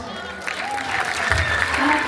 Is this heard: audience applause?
yes